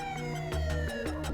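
A paramedic emergency vehicle's siren sounds in a brief burst of steady, stepped electronic tones, fairly loud and heard alone.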